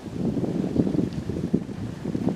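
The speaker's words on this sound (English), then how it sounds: "We're supposed to be having 40-mile-per-hour gusts today." Steady rushing wind with gusts near 40 miles per hour buffets the microphone at a campsite, a constant rough roar with no voices.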